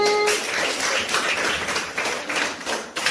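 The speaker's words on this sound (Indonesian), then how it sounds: "Baik, tepuk tangan untuk kita semuanya." A classroom of students applauding together, a dense, continuous wash of clapping that holds steady for about three seconds, close and fairly loud.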